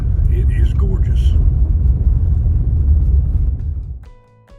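A car drives along a road through Daniel Boone National Forest on a fall morning, a steady low engine and tire rumble with a voice talking over it, fading out near the end.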